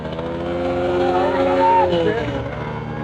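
A motorcycle engine runs steadily while the bike is held back at an outdoor show, its loud drone rising and falling slightly as it strains against the restraint, with a crowd murmuring nearby.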